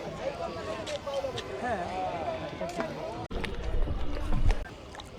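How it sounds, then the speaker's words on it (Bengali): A boat carries passengers across a river to an island near Dhaka, with low water and hull rumble under close talking, plus a louder burst of churning near the end. "তো আসলে এই নৌকা পার হতে হবে"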